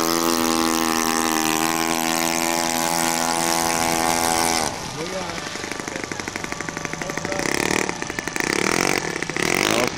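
Small engine of a Sky Arrow model floatplane, a loud buzzing drone that falls away to a rougher throttled-back idle, then climbs again, with people talking nearby.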